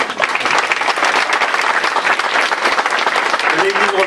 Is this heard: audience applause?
yes